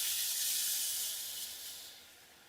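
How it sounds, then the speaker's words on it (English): Beef broth hitting a hot pan of cooked flour roux, a loud steady steam hiss that gradually fades over a couple of seconds. "Now you're going to add 2 cups of beef broth."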